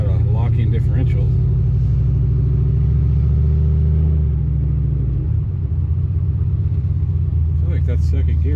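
Vehicle engine rumbling low while driving in the dark, a steady mid-loud drone whose pitch climbs and then drops around a shift into second gear, with someone talking over it.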